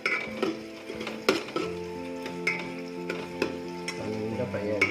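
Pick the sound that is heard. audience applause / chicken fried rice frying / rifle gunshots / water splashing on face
chicken fried rice frying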